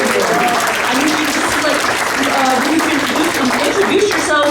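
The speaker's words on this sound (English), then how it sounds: "let's give him a big round of applause" A crowd at an Honor Flight reunion applauds loudly and continuously, dense clapping that fills the whole stretch while voices talk and call out over it.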